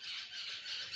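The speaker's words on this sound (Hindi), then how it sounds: "हो सकता है कि आपको बैकग्राउंड में कुछ चिड़ियों की चहचहाट सुनाई दे रही हो।" Birds near a nest with fledglings squawk and chirp steadily in the background, a faint, continuous high chatter with no voices.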